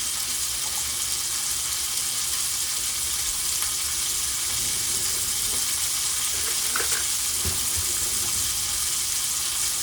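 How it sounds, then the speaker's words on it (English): A thick steak sears in a hot pan, giving a steady, loud, continuous sizzle that fills the whole stretch, with a few faint clinks and shifts partway through. "It's gonna cook around 30 to 40 seconds on each side because this is a pretty thick steak."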